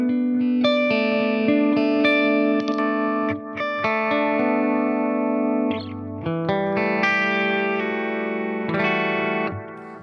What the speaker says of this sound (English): you can even hear, the pitch modulating there on the repeats only. And that's a subtle way to add some chorusing.